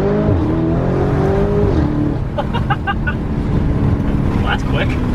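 A Lamborghini Urus accelerates hard in Corsa mode, its engine note climbing through a shift under steady road and cabin noise while people talk over it.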